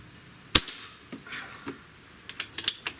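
A Beeman QB II air rifle fires a single sharp, close crack, followed by a few fainter clicks and taps of handling, with no talk.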